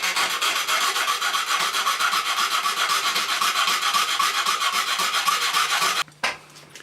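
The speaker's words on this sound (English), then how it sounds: "so I'm just going to clean it up with a file first" A metal file rasps steadily across a burred threaded bar in close, loud, continuous strokes, ending abruptly near the end of the clip.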